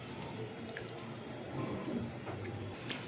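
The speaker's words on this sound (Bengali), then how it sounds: "এবার আমি জল দিয়ে দেবো" Water rushes into a pan of frying spiced food, a steady close pouring and bubbling hiss that swells slightly toward the end.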